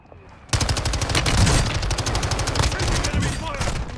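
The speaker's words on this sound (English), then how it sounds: "Taking fire." Shooter video game gunfire erupts suddenly into long, dense bursts of rapid automatic shots, loud and close, with overlapping weapons continuing without pause.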